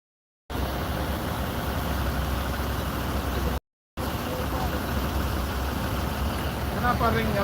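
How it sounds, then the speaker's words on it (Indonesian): An intercity bus engine runs at a steady idle during an engine check, a continuous close low rumble that carries on with short breaks and faint voices underneath. "Ini apa, cek mesin."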